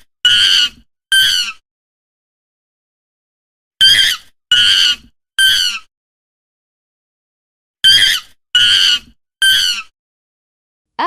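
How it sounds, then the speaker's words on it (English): A monkey gives shrill, squealing calls in three quick bursts of two or three short cries, loud and close, with silent pauses between the groups and no speech. "Monkey."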